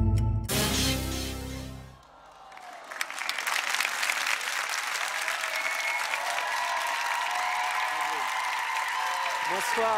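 After a dance audition, a large television studio audience bursts into sustained applause that swells and holds steady, a loud wash of many hands, with cheering mixed in and a short musical ending at the start.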